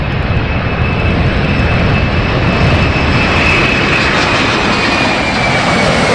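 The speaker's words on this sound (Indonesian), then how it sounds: "Di sana ada pesawat tempur militer." Military fighter jet flying overhead, a loud, steady broadband roar with a thin high whine running through it, sustained and unbroken with no voices.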